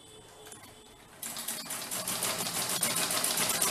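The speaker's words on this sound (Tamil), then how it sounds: "இந்த மாதிரி தைக்கணும்." A sewing machine stitches through a doormat made from old cloth, starting with a faint hum and then breaking into a fast, rapid mechanical clatter that stays loud and steady, with no voices.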